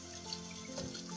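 Tap water runs steadily into a sink during handwashing, a soft continuous splashing wash that stays even and fairly quiet throughout, with no voices.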